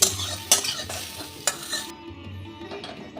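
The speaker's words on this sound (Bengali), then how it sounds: "এই সোয়াবিনটা ভেজে নেব" Soybean chunks sizzling in a pan with several scraping stir strokes, the spatula striking the pan at irregular intervals.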